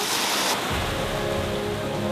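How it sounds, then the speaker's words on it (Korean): A waterfall in a desert oasis, fed by spring water from beneath rocks, pours down as a steady, dense roar of rushing water that fills the scene, with no voices. "이 황량한 사막에 웬 폭포가 쏟아질까요?"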